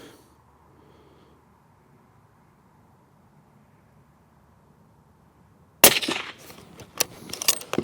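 Near, loud rifle shot from a compact CZ 600 Trail chambered in 300 Blackout, fired in the field; one sharp report with a short ringing tail breaks a long stretch of quiet outdoor ambience.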